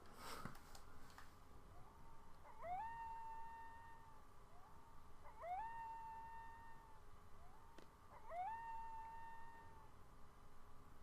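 A dog howling in the Final Fantasy VIII video game, three drawn-out rising howls repeating at a steady interval of about three seconds over faint background noise.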